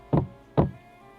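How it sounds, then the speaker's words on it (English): Knocking on a door, two firm, heavy knocks spaced about half a second apart, close and solid, with a dull wooden thud and quiet in between, no voices. "And again they knocked 3 times."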